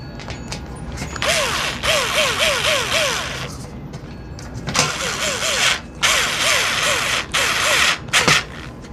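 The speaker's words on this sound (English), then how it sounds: "So it just sits on there like that, and then these screws will go in." Power drill driving screws through the back grill of a 2015-16 Lasko B20308 box fan into sheet metal, in repeated bursts of rising whine, several short runs per burst, close and loud with pauses between.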